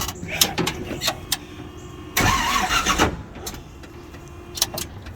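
An old black truck engine with a busted motor and a clogged PCV valve cranks and fires up in a short, loud burst partway through, amid light ticking and shop clatter before and after.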